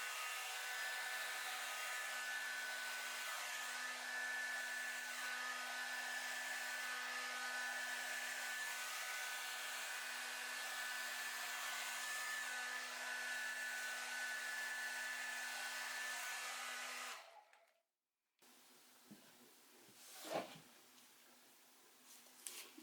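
A hair dryer blows steadily across wet poured paint on a canvas, a loud, even whine held for about seventeen seconds before cutting off, followed by faint handling sounds and light taps.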